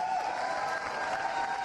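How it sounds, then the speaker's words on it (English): Sustained applause from a large audience at a political speech, a dense, even wash of many hands clapping at a distance. "Clap."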